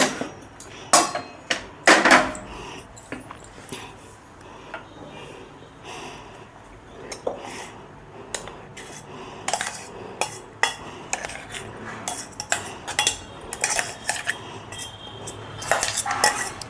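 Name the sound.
mixing ground chickpea paste in a bowl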